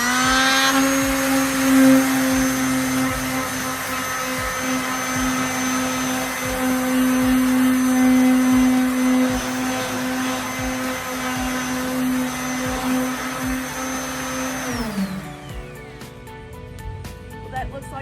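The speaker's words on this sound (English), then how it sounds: "So I've got a little sander here. I'm gonna try the sander and see if that works." An electric sander works on old metal lockers, a steady loud whine with a strong low hum and harmonics that holds for about fifteen seconds, then winds down and stops, leaving quiet room sound.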